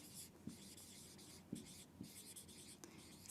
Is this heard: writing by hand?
yes